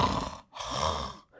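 A voices an imitation of snoring through an open mouth: two long, rough, rattling breaths with a short gap between them, close and alone.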